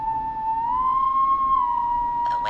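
A steady, wavering whistle in the horror game Killer Frequency holds a single pitch for a couple of seconds, clear and alone with no speech.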